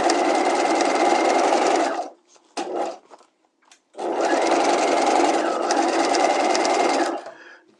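A sewing machine stay-stitches the outer fashion-fabric shell of a structured bodice. Two long, steady runs of loud, fast stitching are split by a short gap with a brief burst and some quiet handling. The machine stops again near the end.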